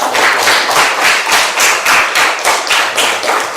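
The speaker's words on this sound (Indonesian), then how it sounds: "Tepuk tangan dulu untuk semua." Audience applause at an Indonesian school session on positive discipline, steady dense clapping with rhythmic swells throughout, fairly loud and continuous with no talk over it.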